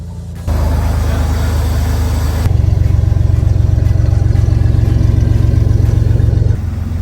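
A freshly rebuilt 3.4 car engine running with a steady, loud idle that steps up to a higher, fuller level partway through before dropping back, close by with no talk.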